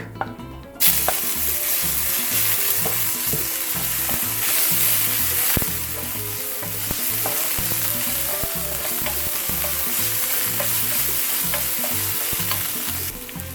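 Ginger and garlic hit hot oil with methi seeds for chicken choila momo, a loud sizzle bursting in after a brief quiet start and frying steadily, with intermittent spatula clinks and scrapes against the pan.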